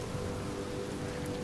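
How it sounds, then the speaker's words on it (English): Heavy rain pouring in the game Uncharted 4 on a beach, a dense, constant downpour hiss filling the whole short stretch without any voices. "Some serious rain right now."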